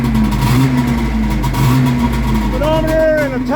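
A Yamaha SRV540 snowmobile engine runs loud and close with a steady drone, its pitch rising and falling in short revs, and a voice talks over it.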